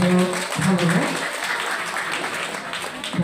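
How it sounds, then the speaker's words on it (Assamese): Audience applause at a school ceremony honouring retiring teachers, a dense steady patter of clapping from many hands that follows a brief spoken voice at the start and holds at moderate loudness to the end. "গতিকে আমি সকলোকে একোটা হাত তালি দিবৰ কাৰণে অনুৰোধ কৰিছোঁ।"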